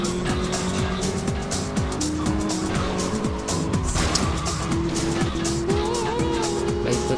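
Cars in GTA Vice City race and skid, engines roaring with repeated tire squeals and screeching slides, loud and continuous throughout.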